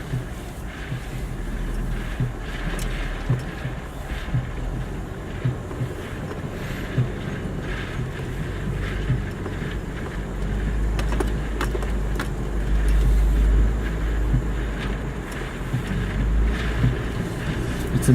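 A stock Land Rover drives an off-road trail course at an overland expo, its engine a continuous low rumble mixed with wind buffeting the microphone, growing louder toward the end, with no talk.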